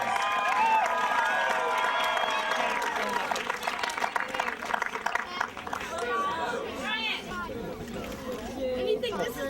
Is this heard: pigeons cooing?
no